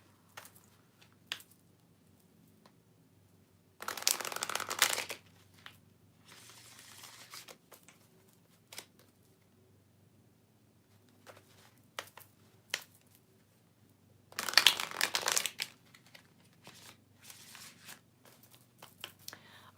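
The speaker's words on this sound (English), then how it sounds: "I'm going to shuffle these 3 times." Playing cards are riffled and shuffled during a tarot-style reading, two crisp bursts of rapid fluttering card sounds a few seconds apart, with faint handling noises in between and no talking.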